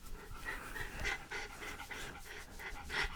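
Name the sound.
dog Clyde panting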